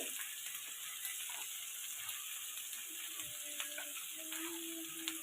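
Onion frying in a pan with a little turmeric and salt, giving a steady, faint hiss and crackle with occasional light stirring scrapes throughout, no voices.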